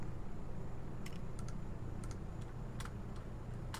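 Keys on a computer keyboard click in small irregular clusters, a few taps at a time, faint against a constant low background hum.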